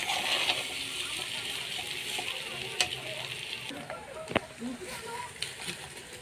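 Rice stir-fried in a pan, sizzling steadily while a utensil stirs and scrapes with occasional clinks, a voice talking faintly over the frying.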